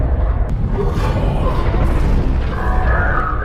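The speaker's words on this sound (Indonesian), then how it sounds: "bunker milik Howard terbakar abis yang menyebabkan gudang di luarnya meledak" A shed outside a burning bunker explodes in the film 10 Cloverfield Lane. A loud, deep, rumbling blast fills the whole stretch with sustained low crashing roar.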